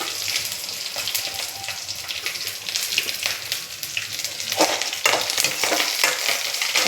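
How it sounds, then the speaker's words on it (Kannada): Curry leaves sizzle in hot oil while puri sagu is cooked, making a loud, continuous close frying hiss with crackles throughout and no voices. "ಆಮೇಲೆ ಕರ್ಬೇವಿನ ಸೊಪ್ಪು ಹಾಕ್ತೀನಿ ನೋಡಿ."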